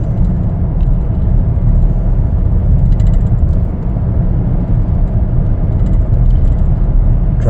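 A 2021 Chevrolet Traverse LT on the move gives a steady, loud low road and engine rumble with tyre noise, unbroken throughout and with no voices.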